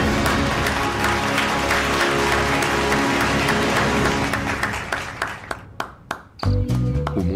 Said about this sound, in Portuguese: Palmas para esse pequeno sobrevivente.